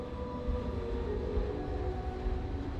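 Trains rolling along tracks in the terraforming game Plan B: Terraform, a steady low rumble with faint tonal hums holding evenly throughout.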